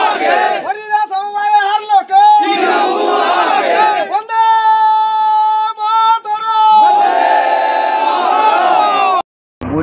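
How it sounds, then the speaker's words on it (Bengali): A crowd at a BJP victory celebration after a cooperative election win chants and cheers loudly in rhythmic, repeated slogans, voices rising together in close, energetic bursts that end with an abrupt cut. "ওঠে জয় শ্রীরাম স্লোগান।"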